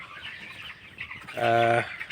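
Broiler chickens in a poultry shed on a cold day under heat bulbs, giving a soft background murmur and then one loud, clear cluck call near the end.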